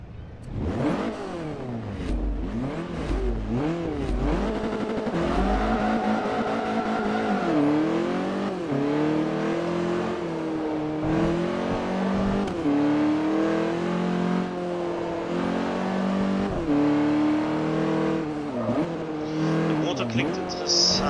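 Four-cylinder turbocharged race car engine in Forza Motorsport 3, revving up and down through gear changes with occasional tire squeal, loud and continuous for about twenty seconds.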